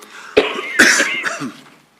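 Two or three loud, close coughs in quick succession, ending with a brief throaty rasp, from a speaker at a city council meeting.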